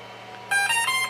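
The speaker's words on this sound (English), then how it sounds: "there's the good old 3 beeps that we hear" A Melonboard Gen 2 electric skateboard powers on with a short series of bright electronic beeps in quick succession, close and clear over a faint low hum.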